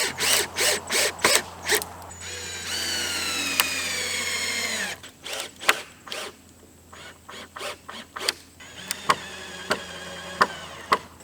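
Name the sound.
screwing a joist in while building a shed floor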